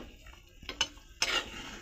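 Boiled radishes stirred into fish curry in a pot, two or three short scraping clinks of a utensil against the pot, close and brief, over a low simmer.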